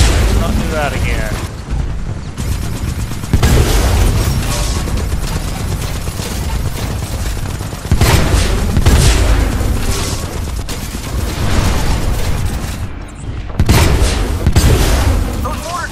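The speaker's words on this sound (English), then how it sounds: "Those mortar titans are really giving our harvester some damage." Mortar titan bombardment in the video game Titanfall 2, a dense, loud wall of booming explosions and heavy rumbling battle noise that continues throughout, with voices talking over it.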